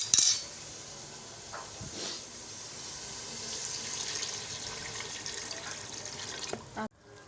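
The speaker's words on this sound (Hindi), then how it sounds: "अब हम इसमें पानी डाल के ढक्कन लगा देंगे" Water from a tap pours steadily into a pot of cooking meat curry with cauliflower, a continuous close rushing that runs for several seconds and then stops abruptly, with a clink at the start.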